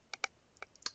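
Code being typed on a computer keyboard, with five or six crisp, close key clicks in an uneven rhythm and quiet between strokes.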